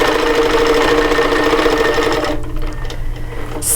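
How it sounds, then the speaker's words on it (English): A Handy Quilter Moxie quilting machine stitches with a steady, even mechanical whir that stays loud and consistent, easing slightly toward the end. "You're able to hear me, I hope, talking over the sound of the machine."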